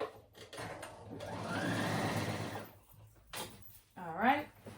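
Sewing machine stitching the seam of a batwing summer dress in one fairly loud run of about a second and a half, with softer handling clatter and brief noises before and after.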